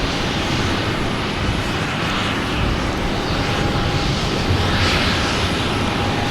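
An American Airlines A319 airliner at Boston Logan airport gives a loud, steady roar of engine noise with a faint whine on top, close by and continuous throughout, with no voices.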